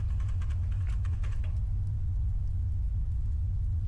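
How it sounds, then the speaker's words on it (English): Clicking inside a mech cockpit in the video game Nauticrawl: a quick series of light, dry clicks over a heavy, constant low machine rumble, then the clicks stop and only the rumble continues. "I don't know if you heard that clicking."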